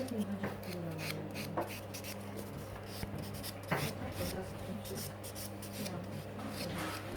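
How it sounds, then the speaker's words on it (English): A 100/180 nail buffer rubbed over natural fingernails after soak-off gel polish removal: quiet, close, repeated short scratchy strokes in an irregular rhythm over a low steady hum. "my next step it will be just to gently buff, and I use the 100 by 180 buffer"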